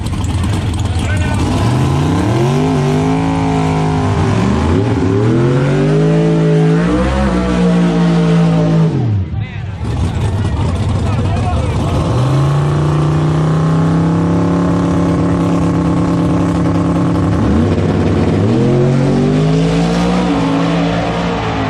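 A turbocharged LS-powered drag race car launches and pulls hard at the track, a loud continuous engine roar whose pitch rises and falls through the gears, with one brief dip midway.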